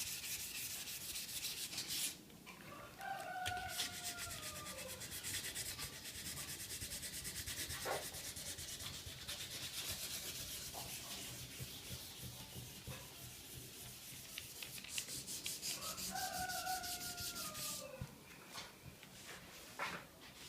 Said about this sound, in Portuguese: só ir lixando até deixar ela totalmente lisa.